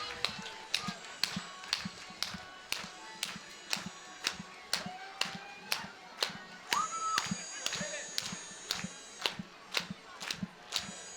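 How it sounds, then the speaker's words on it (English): A crowd at a hometown Christmas parade claps in unison to the beat for dancers, sharp regular claps ringing out over live music, with a voice briefly talking over it. "Start clapping to the beat."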